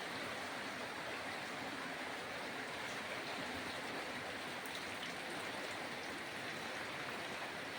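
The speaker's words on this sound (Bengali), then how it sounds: "বৃষ্টির জল পড়ছে" Rainwater falls around a small house in a steady, even hiss of dense drops and running water, continuous and unbroken throughout.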